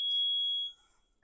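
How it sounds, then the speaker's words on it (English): A gym interval timer gives one steady high electronic beep lasting about half a second, then cuts off into near silence. "annoying timer, really badly timed"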